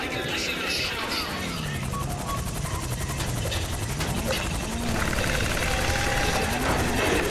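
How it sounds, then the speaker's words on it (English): A helicopter in GTA V Online during a bank robbery heist mission, a steady rotor drone with mechanical clatter and game effects underneath. "Oh, chopper is coming."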